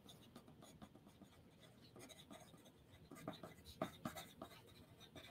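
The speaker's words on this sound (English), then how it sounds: "if you can hear my pencil going" A pencil scratches across paper very softly and close, a faint irregular scribbling with a few sharper strokes, recorded at whisper level during a relaxed live chat.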